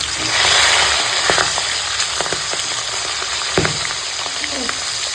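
Catla fish frying in hot oil, a steady broadband sizzle with a few sharper crackles and pops, fairly close and continuous, with faint background voices.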